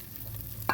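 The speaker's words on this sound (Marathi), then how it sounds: "बटाट्याला आपण फ्राय करून घेऊ." Potatoes fry in oil in a pan for a dhaba-style dum aloo, a soft steady sizzle ending in one brief clatter, close and alone.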